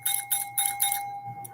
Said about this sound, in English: a bell.